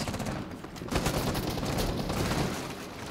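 Sustained gunfire in Rainbow Six Siege, a dense rapid burst of shots filling the whole stretch, loud and close, with heavier volleys after the first second.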